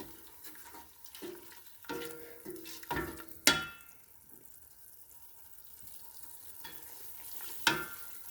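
Onions cooking in masala with a little added water, heard as soft sizzling with scattered clinks and scrapes of a spoon against the pot, including a few sharp metallic knocks, without talking.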